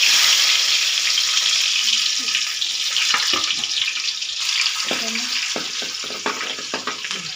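Onions sizzle and crackle steadily in a hot pan for a Tamil-style chicken gravy, with scattered stirring clatter and scraping sounds close by.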